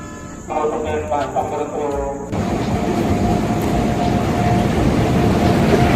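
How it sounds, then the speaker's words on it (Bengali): Howrah Chakradharpur Express 18011 pulling into Uluberia station, a steady loud rumble of wheels and carriages that swells after the first two seconds, with brief voices near the start. "এখন উলুবেড়িয়া স্টেশনে ঢুকছে 18011 হাওড়া চক্রধরপুর এক্সপ্রেস ট্রেন।"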